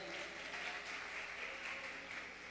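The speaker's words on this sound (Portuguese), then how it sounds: "Mariana, formada ali em Belo Horizonte, salva de palmas para ela." Short burst of audience clapping at an informal talk with professors and former university students, a fairly faint, even patter of hands lasting a couple of seconds.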